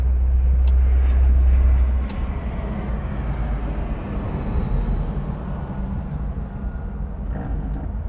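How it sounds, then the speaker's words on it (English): A passenger airplane comes in to land low overhead, a loud low roar that fades after a couple of seconds into a steady distant rumble, heard from inside or beside a Vauxhall Viva HC on the road. "Oh, there's a plane landing on us."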